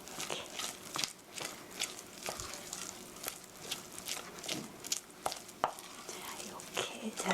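Carrot and onion being mixed into a soft onion puff batter, with repeated wet stirring scrapes and small clicks of a utensil against the bowl, steady and close.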